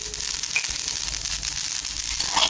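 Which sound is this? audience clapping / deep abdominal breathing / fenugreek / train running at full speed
fenugreek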